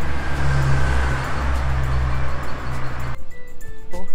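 Cars pass close by on a narrow street without sidewalks in Covilhã, Portugal, with a loud, steady engine rumble and tire noise that drops away suddenly, leaving quieter street ambience and faint sounds.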